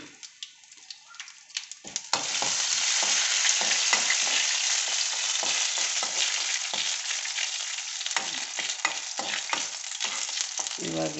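Cumin, mustard seeds, chana dal, urad dal and curry leaves hit hot oil for a coconut chutney tempering, bursting into a loud crackling sizzle after a quiet start, with popping spatters throughout.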